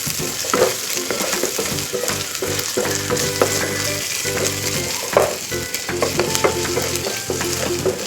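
Onion and ginger-garlic paste fry in a pan for paneer tikka masala, a steady close sizzle with repeated spatula scrapes and knocks as the mixture is stirred throughout.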